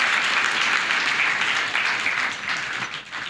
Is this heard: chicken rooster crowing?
no